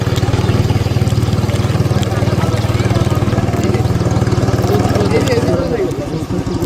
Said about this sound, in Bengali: ওই যে একটা নৌকা আমি ওখানে একটা নৌকা আসতেছে অলরেডি